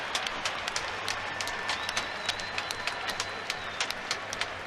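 A Pittsburgh Penguins arena crowd applauds injured Tampa Bay Lightning goalie Ben Bishop during a May 2016 NHL playoff game, a steady wash of many hands clapping at a distance.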